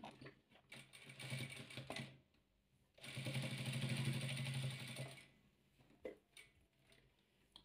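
A sewing machine stitches royal velour patchwork pieces for a Kazakh crane-pattern quilt, running in two mechanical bursts, a short one and then a longer, louder steady run, with quiet pauses between.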